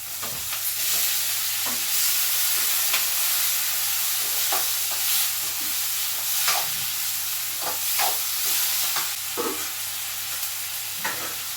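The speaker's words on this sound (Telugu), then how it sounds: "అది టమాటా ముక్కలు వేస్తున్నా" Tomato pieces fry in a pan for tomato rice, giving a steady sizzling hiss throughout with occasional stirring scrapes and clicks, close and fairly loud with no talking.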